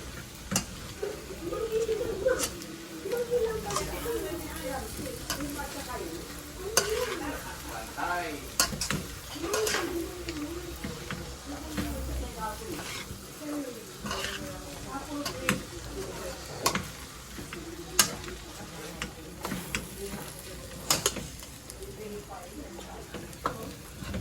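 Tuna sisig sizzles in a pan while a spoon stirs and scrapes repeatedly, giving an uneven run of clicks and scrapes over a constant frying hiss for the whole stretch, with occasional talk underneath.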